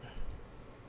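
Mouse clicks in Camtasia Studio software: two quick, light clicks close together near the start, followed by a quiet background.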